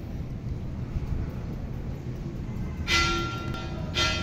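A church bell rings at noon in Tuburan, Cebu, sounding as two separate strokes about a second apart over steady outdoor background noise.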